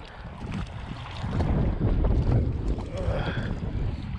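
Wind buffets the microphone on a winter river during fly fishing, a rough, gusting low rumble that swells midway and stays loud and close, with faint talk underneath.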